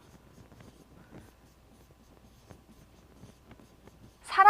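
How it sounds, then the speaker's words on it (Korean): A Korean sentence is handwritten on a board, giving faint, close scratchy strokes in short bursts for several seconds, ending in a sudden louder noise. "제가 한국어 문장을 쭉 써볼게요"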